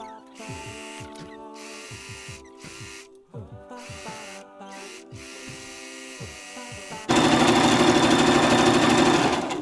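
A sewing machine stitches trim onto a karate, Tang Soo Do or taekwondo uniform. Short, uneven bursts of motor whine come first, then a louder run of continuous stitching near the end, close to the listener.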